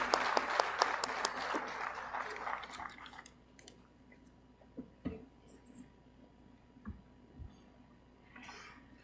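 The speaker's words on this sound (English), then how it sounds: "Let's give her a big round of applause" Audience applause at the Uttarakhand AI Impact Summit 2025 for someone speaker, a burst of clapping in the first three seconds that fades into scattered claps, murmurs and faint handling noise.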